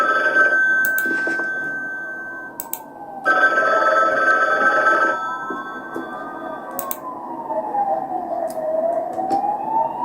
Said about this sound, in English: It seems like the telephone is ringing